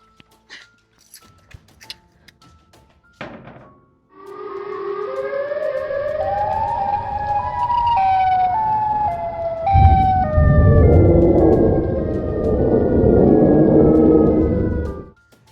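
A Siren Head monster lets out a loud, sustained siren wail. After a few faint clicks it starts abruptly and holds for about eleven seconds, with pitched tones rising and falling in overlapping sweeps.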